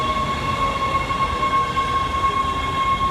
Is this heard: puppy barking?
no